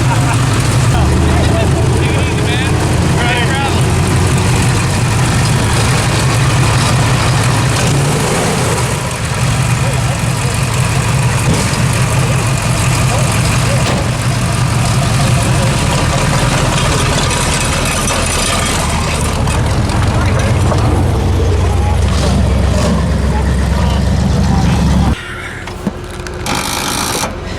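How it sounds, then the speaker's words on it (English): An AMC AMX with a shaker hood, outdoors at a hot rod tour event, its engine cranking without firing: a steady, loud low mechanical churn sustained for about twenty-five seconds, then cutting off abruptly, with crowd noise around. "That's the sound of it not starting."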